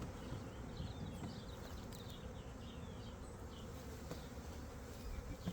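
Honey bees buzz around a light colony's hive in early spring, a faint, continuous hum with individual bees droning past close to the microphone.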